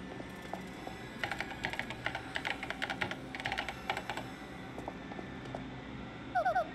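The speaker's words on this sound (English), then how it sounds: "Use the keyboard to send whatever message you want." Rapid keyboard typing in a video game, a dense run of clicky keystrokes over a steady background hum, closing with a short chiming tone.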